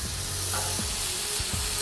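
Onions hitting a hot pan beside searing burgers, a loud continuous close sizzle with a few soft scraping stirs, no talking.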